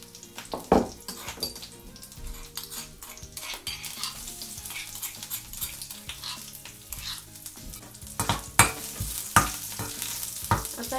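Crushed garlic goes into hot oil already crackling with cumin seeds and curry leaves for a Malvani tomato saar tempering, sizzling and popping steadily while a spoon stirs and clinks against the pan.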